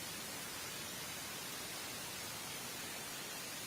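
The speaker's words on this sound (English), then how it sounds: "There's some pleasing white noise." Steady, even hiss of white noise fills the whole stretch, broadband and unchanging, quiet and alone with no voices.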